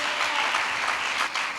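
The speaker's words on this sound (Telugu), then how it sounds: "నా మాట అర్థమైన వాళ్ళు చప్పట్లు కొట్టండి." A church congregation claps their hands together in a steady burst of applause, dense and sustained throughout, filling the hall at moderate volume.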